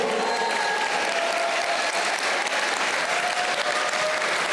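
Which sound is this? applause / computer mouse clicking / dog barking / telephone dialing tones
applause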